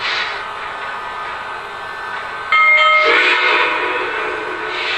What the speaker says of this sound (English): I'm going to activate sequence control, so the sounds will be automated as we move the train.